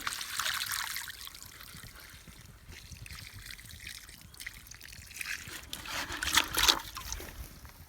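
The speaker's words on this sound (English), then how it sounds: "So as the water runs down the hill, or runs anywhere, it'll pool in there" Rainwater running down a shale hillside trickles and dribbles steadily into a pool at close range, with brief splashy bursts near the end, no talk.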